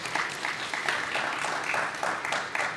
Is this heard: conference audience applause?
yes